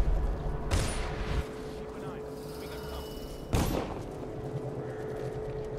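Two sharp, booming gunshots in the video game Dishonored: The Brigmore Witches ring out a few seconds apart over a steady ambient hum, each with a short rumbling tail.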